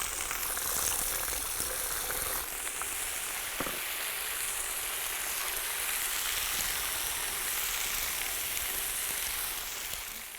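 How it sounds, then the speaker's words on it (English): Potatoes fry in oil in a kazan over an open fire, giving a loud, steady, dense sizzle that holds evenly throughout with no talking. "The first thing we need to do is fry the potatoes well."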